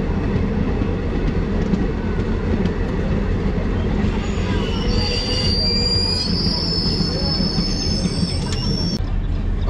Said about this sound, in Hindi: अपने 1 मिनट के हॉल्ट के बाद ये छोटे से रेलवे स्टेशन रतकर छत्तर से अभी चल पड़ी है